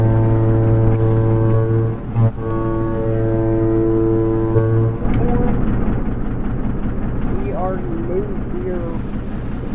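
Deep, loud ship foghorn blasts twice in the video game Stormworks over steady wind and water noise, then fades out while engine rumble and faint chirping sounds continue.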